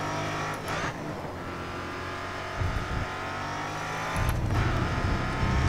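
Race car engine at full throttle in the Grid Autosport video game, a loud sustained whine that shifts pitch through the gears, with brief bursts of revving and tire noise.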